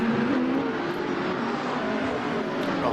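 GT3 race cars lapping Silverstone produce a continuous loud engine roar with a steady, slightly shifting pitch, sustained throughout as the cars run past together.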